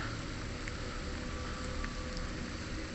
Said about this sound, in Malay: hujan lebat kan.